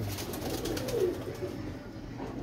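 Pigeons coo softly in a low, rolling murmur, a single close call over a steady outdoor background hum, no talk.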